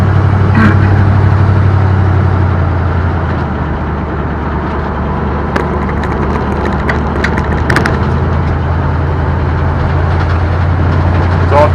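A 1958 Plymouth Suburban two-door wagon drives along with its engine running steadily, a loud continuous low rumble and road noise throughout, shifting up through the gears.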